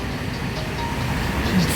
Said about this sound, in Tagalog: Nandyan yung MRT,